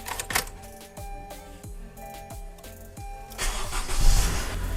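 A Honda car engine starts after a transmission fluid change. The starter cranks in a quick series of rhythmic turns, then the engine catches and settles into a louder, close idle.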